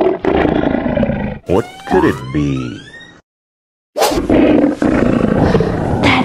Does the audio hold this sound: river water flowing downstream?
no